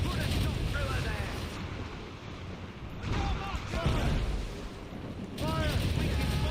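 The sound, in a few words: ship cannons firing, from video game Assassin's Creed Rogue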